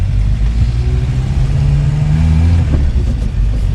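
Renault 4L engine pulling away from a stop, a close, loud low-pitched drone that rises slightly as the small car sets off, with no talking.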